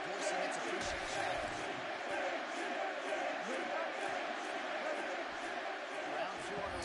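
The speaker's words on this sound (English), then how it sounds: "So the crowd voicing its appreciation." Arena crowd noise in the UFC 6 video game, a broad, sustained roar of cheering and shouting at a steady level, with a commentator's voice over it.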